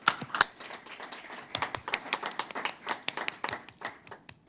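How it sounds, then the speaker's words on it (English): Applause at a school district board meeting for award recipients: a modest room of people clapping, individual claps distinct and uneven, moderately quiet and fading toward the end. "just one more round of applause for our Knocked Our Socks Off award"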